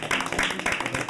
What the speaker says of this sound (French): Je vous propose par applaudissement de accorder ça.